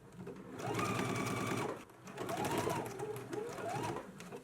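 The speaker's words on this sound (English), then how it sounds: "Let's do our understitching now." A sewing machine runs in two short bursts, pausing briefly between, as it understitches the lining of a bodice; quiet, close and steady.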